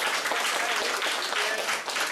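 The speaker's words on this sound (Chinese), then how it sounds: "那我们热烈掌声" Audience applause after a technical conference talk on instruction scheduling in LLVM, a steady dense patter of many hands filling the room without a pause, at moderate level.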